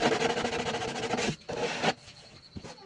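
A PVC gutter edge is trimmed with sandpaper or a cutter, giving a close, steady rasping rub in rhythmic strokes, then two shorter scraping passes after brief pauses.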